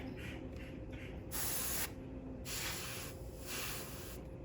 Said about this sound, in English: If I spray too hard, I'm going to make it fly everywhere.